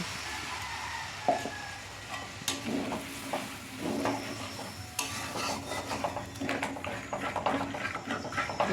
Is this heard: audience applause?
no